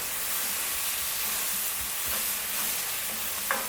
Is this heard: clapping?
no